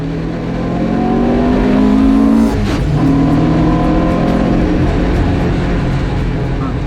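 A classic Marcos race car's engine sounds loud and close on track at Snetterton, its pitch climbing, then a brief dip and break as it drops a gear before pulling on again.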